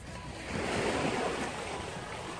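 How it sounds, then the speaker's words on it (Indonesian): Ocean waves wash onto the shore at a fishing spot, a steady rushing surf with wind, swelling slightly midway through and heard alone without talk. "Derai ombak."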